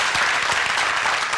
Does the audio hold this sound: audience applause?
yes